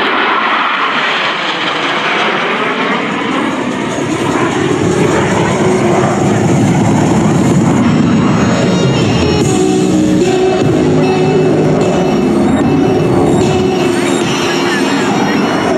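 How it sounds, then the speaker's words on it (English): US Navy Blue Angels jets 5 and 6 approach the flight line at about 400 mph during the 2023 NAS Oceana Air Show, with a loud, sustained roar from the jet engines that fills the whole stretch with no pause. "Blue Angels 5 and 6 are approaching the flight line at 400 miles per hour."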